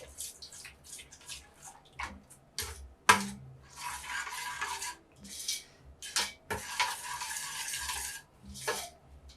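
Thick ogbono soup being stirred in a cooking pot: close, irregular scraping and wet rubbing strokes in bursts separated by short pauses, with an occasional sharp knock of the spoon.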